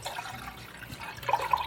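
Water pours into a pan for pickling brine, a faint, brief splashing trickle that grows slightly louder toward the end.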